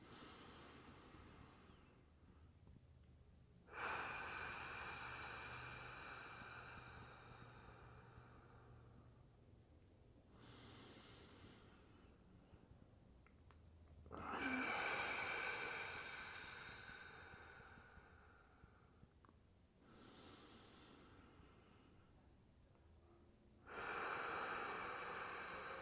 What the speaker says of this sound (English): breathing into the belly first, 5 deep breaths